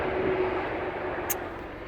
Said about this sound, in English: you can hear all the cars